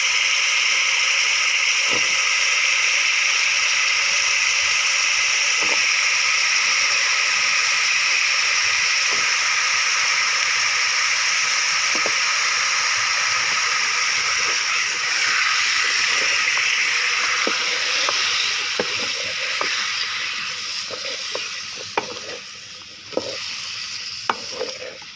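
Finely chopped turnip sizzling and frying in cooked spices, a steady loud hiss with occasional stirring clicks that fades slightly toward the end.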